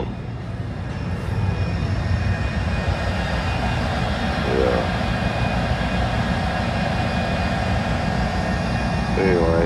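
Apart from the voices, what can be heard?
boat engines rumbling while waiting at anchor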